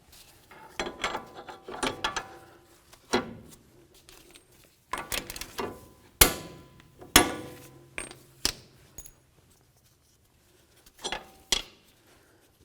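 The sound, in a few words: ratchet tightening axle nut on Jeep Compass strut assembly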